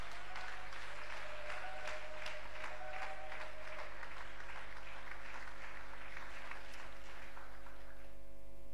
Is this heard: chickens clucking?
no